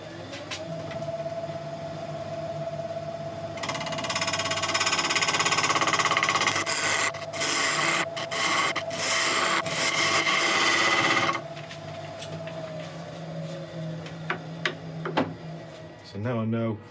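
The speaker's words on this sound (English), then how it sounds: "So I'm just going to get a skew and just cut in to try and make sure that the top of this" A skew chisel cutting into the rim of a burl wood bowl spinning on a lathe, a loud scraping rasp that builds and runs for several seconds over the motor's steady hum, with brief knocks and a quieter whir after.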